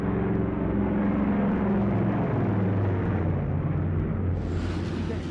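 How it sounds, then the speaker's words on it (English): Large British and American cargo planes flying over Berlin during the airlift produce a loud, steady, low propeller drone that fills the whole stretch and fades only slightly at the end. "huge British and American cargo planes fly over Berlin"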